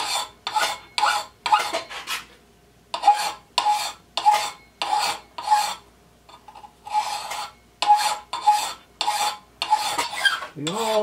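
A hand file rasps along an axe edge in about a dozen evenly spaced, loud, close strokes with short gaps between them, and a brief scrape near the end.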